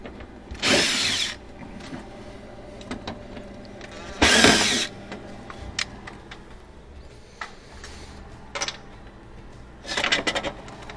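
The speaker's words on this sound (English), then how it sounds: "we'll remove the 6 quarter bit screws that holds the evaporator cover panel" A power drill backs out quarter-inch screws from the evaporator cover panel inside a Frigidaire refrigerator, three short loud whirring bursts spaced several seconds apart with quiet handling clatter between them and no talk.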